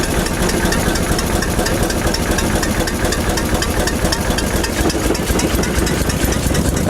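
An early engine in the style of a Henry Ford car runs steadily with a throttle being worked, giving a constant loud rumbling idle with a regular rapid knocking pulse and no talk over it.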